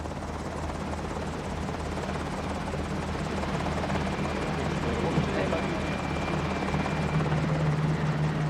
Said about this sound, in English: Captain Cousteau, after a jet flight from France, is shuttled by helicopter to the bow of Calypso.